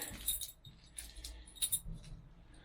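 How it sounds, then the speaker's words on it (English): A big bunch of heavy keys, including large ignition keys for a MachPro MP30 mini excavator, jangles and rattles in short bursts through the clip, close by and fairly quiet, with no talk. "I need to find a big mess of keys."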